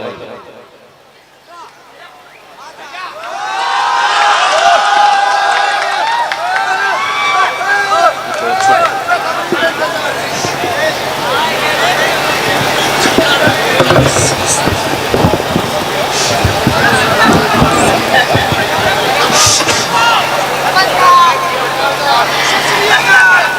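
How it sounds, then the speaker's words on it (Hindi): A mushaira audience in Azamgarh applauds loudly to welcome a poet. A dense, steady wash of clapping rises after a quiet opening and stays full for the rest of the stretch. "जोरदार तालियों से इस्तकबाल कीजिए"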